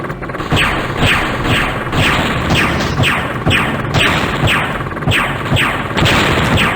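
Rapid, evenly spaced laser blasts from a Herc battle mech in the Earthsiege game, about ten sharp zapping shots in a steady rhythm over a continuous mechanical hum, loud and close.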